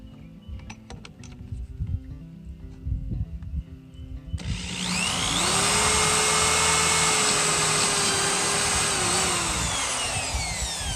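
A power drill spins up and bores steadily into wood, a loud sustained whine with pitch dipping under load, after a few seconds of quieter clatter.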